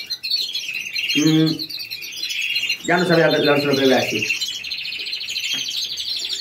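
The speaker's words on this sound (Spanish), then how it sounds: "Tengo un pájaro espectacular. Tiene unos timbres, tiene unas voces" Pet songbirds kept by a breeder chirp and sing continuously in bright trilling phrases, with someone speaking briefly over them.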